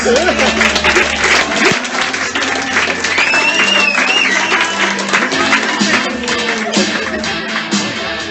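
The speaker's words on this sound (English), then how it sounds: "Clap it up for Ross Parsons." Applause and cheering at a comedy roast show, loud sustained clapping with whoops and shouting voices over it, a speaker's voice sounding through the crowd noise.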